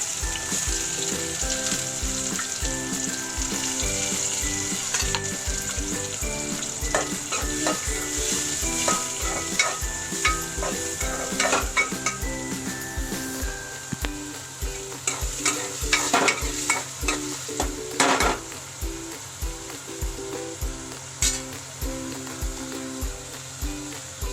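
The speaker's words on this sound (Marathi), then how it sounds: "कांदा ब्राऊन होऊन द्यायचा" Onions fry in a hot pan until brown, a loud continuous sizzle with frequent spatula scrapes and stirring clicks that thicken toward the end, close by, with no talking.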